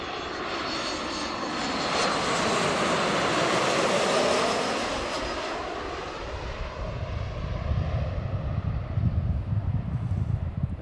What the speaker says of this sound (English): as you can tell, it's a windy day.